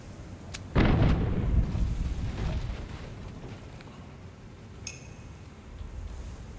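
A single heavy cannon boom from a pirate ship in the video game Tortuga - A Pirate's Tale erupts near the start, rumbling and decaying for a few seconds, with a fainter pop later over a steady background.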